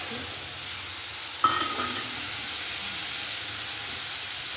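Mustard paste water is poured into hot oil tempered with nigella seeds and a green chili for a hilsa posto dish. A sudden loud burst of spitting sizzle fades into a steady, even hiss.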